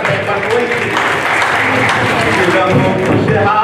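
Audience at a literary gathering claps steadily along in rhythm, a dense, even wash of applause filling the room.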